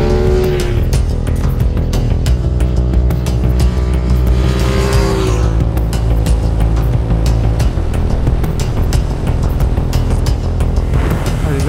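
A Chinese motorcycle accelerates with a buzzing engine note that climbs in pitch early on, then settles into a rough, loud, continuous drone mixed with wind rush.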